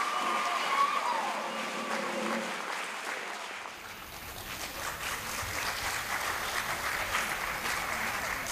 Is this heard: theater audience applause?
yes